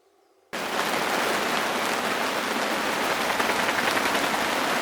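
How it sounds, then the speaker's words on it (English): Heavy rain pours down outdoors, a dense, steady hiss of drops that starts abruptly after a brief quiet moment and continues loud and unbroken. "If you can hear over the noise of the rain, it is bucketing it down."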